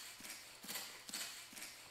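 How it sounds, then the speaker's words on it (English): Game footstep sound effects from a Wwise event in Unity: four quiet, evenly spaced steps, each a soft thud with a crisp scuffing top, heard alone. "this is what we'll hear in game when the event footstep is called."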